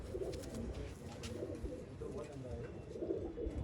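A large pure Hazara-bloodline pigeon of the Babe Punnu Dhanne breed coos in low, repeated rolling notes while being held for inspection, close by, over a steady murmur of background noise.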